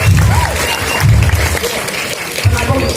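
Applause from an audience at a Balinese Calonarang performance, loud mixed clapping blended with crowd noise and low rumbling voices across the whole stretch.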